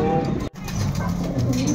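Racing pigeons arriving at the loft during a race between two clubs from San Leonardo and Cabanatuan, cooing steadily and up close throughout, with a brief dropout partway through.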